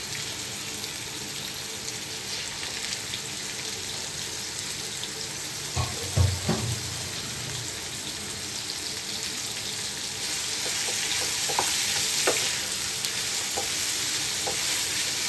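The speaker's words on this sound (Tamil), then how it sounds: "வெங்காயம் நல்லா பொன்னிறமாக வதங்கினதும் எடுத்து வச்சிருக்கிற சிக்கனை அதில் போட்டுடலாம்" Marinated chicken sizzles in a pan of golden-brown onions for a coconut chicken gravy, a steady close frying hiss with a few clattering stirs and utensil knocks midway and later.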